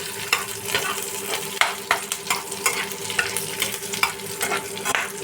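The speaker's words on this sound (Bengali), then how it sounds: "জিরেটা তেলে রোস্ট হয়ে যাচ্ছে।" Cumin seeds and spices roasting in hot oil in a pan for an egg dish, a steady crackling sizzle broken by repeated sharp scraping stir strokes, close and fairly loud with no talking.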